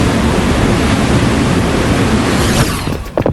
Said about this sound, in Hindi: पानी लीक हो रहा है। सब लोग जल्दी बाहर निकलें, पाइप फट गए।